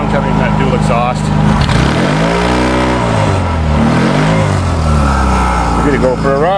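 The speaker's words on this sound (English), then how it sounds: "Don't you love that stereo sound coming from that dual exhaust?" A carbureted engine rumbles through a dual exhaust, rising and falling in pitch as it is revved and settles, loud and close throughout, with a voice breaking in near the end.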